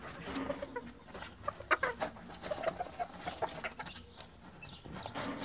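A rooster clucks and calls repeatedly at a moderate distance over steady farmyard background noise.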